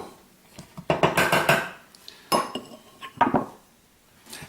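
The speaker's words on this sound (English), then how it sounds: "what I do is I just push down the little crust mixture into the bottom with my tablespoon" A tablespoon clinks and scrapes against a bowl while crust mixture for mini keto pumpkin cheesecakes is pressed into silicone molds, with irregular bursts of sharp clatter between short pauses.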